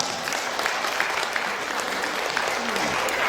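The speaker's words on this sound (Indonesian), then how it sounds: "Tepuk tangan." A crowd applauding steadily, dense clapping throughout at an even, fairly loud level.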